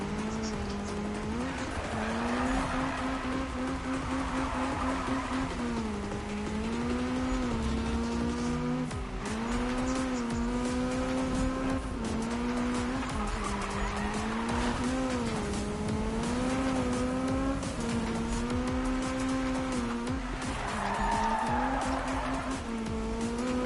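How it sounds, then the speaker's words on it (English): Honda Civic engine in Need for Speed 2015, revving hard and bouncing off the rev limiter on downshifts, a loud continuous buzzing drone with repeated pitch dips and rises over about 24 seconds. "that Civic sounds terrible as it's like hitting the rev limiter when you downshift"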